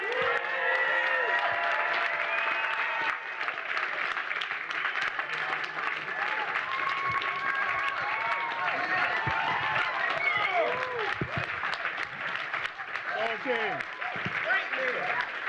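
An audience gives sustained, even applause for a funk musician, a dense crowd wash lasting throughout with scattered voices and whoops mixed in.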